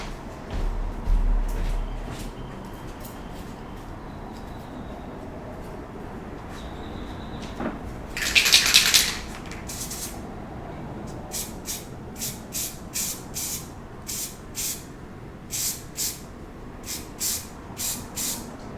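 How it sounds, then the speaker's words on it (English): Spray paint can hissing onto a set of sticks to test chameleon pigment colors, one longer burst followed by a rhythmic series of short sprays, close and loud against a quiet room. "I'm gonna spray paint this set of sticks."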